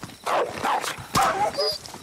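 A dog barks in the Call of Duty Modern Warfare 2019 video game, giving a few sharp, close barks or yelps in two short bursts against quiet game sound.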